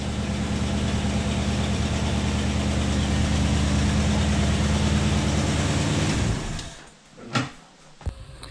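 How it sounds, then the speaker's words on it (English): A 1973 AMC Javelin engine idles with a steady, loud rumble for several seconds, then cuts off, leaving a couple of sharp knocks and clatters. "Well, we got the car running."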